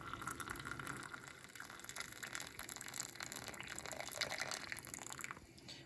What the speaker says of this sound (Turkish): Ve üzerine sıcak su koyuyorum